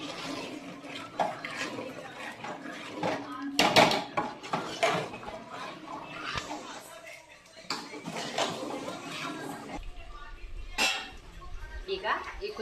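Chicken curry ingredients, village style, get mixed with salt and chili powder, with scattered clinks and scrapes of a utensil against a pot, one sharp clatter standing out, heard under intermittent talking.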